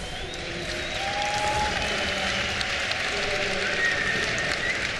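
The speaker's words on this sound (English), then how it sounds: "everyone in Hanover, can I please have you guys cheer for yourselves for being here today for the semifinal match?" A live esports crowd at the IEM Hanover semifinal cheering and clapping, a broad steady wash of applause and shouting filling the arena at a constant loud level, with scattered whistles rising above it.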